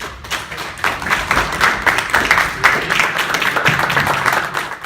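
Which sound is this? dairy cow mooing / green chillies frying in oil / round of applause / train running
round of applause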